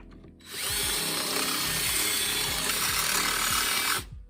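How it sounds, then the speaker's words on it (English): A power drill with a 5/16 bit grinds steadily, enlarging a bolt hole while fitting a hydraulics kit to a Mahindra tractor, close and loud, with rhythmic scraping pulses under the motor's whine. "I'm using a 5/16 drill bit."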